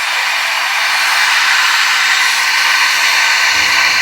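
Steady, loud roar of a heat gun or torch warming a stuck shaft nut on a Garrett TR30R motorsports turbocharger wheel, holding constant throughout with no talk.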